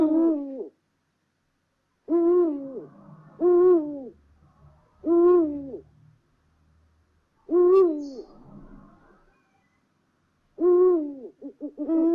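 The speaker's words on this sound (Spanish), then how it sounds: "El Búho." An owl hoots in slow, evenly spaced calls, each a clear mid-pitched hoot separated by silence, loud and close with nothing else around.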